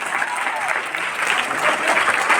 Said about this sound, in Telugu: నిలబడి చప్పట్లు కొడతారా?